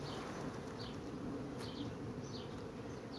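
Honey bees buzz in a dense, continuous drone close by as a hive frame is shaken free of them, steady and fairly quiet with no talk.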